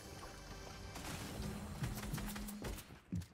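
Scattered gunfire in the video game Fortnite, a burst of shots crackling amid game noise and ambience, with a couple of sharper reports near the end; moderately quiet overall.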